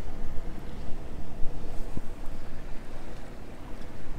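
A motor boat's engine throttles up as it sets off toward a lock in Friesland, a steady broadband rumble with wind and water wash, loud and continuous throughout.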